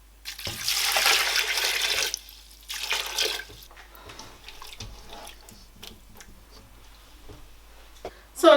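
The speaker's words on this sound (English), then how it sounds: "So I am going to put water in my beans." Water pours from a tap into a pot of washed beans in a home kitchen while cooking Nigerian beans, a steady gushing stream in two bursts followed by quieter clinks and movement.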